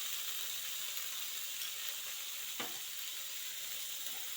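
Tomatoes and onions fry in a pan for carrot palya, a soft, even sizzle throughout with one brief scrape of the spoon midway, quiet and free of speech.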